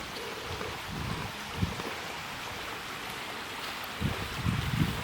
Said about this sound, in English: Water is running nice.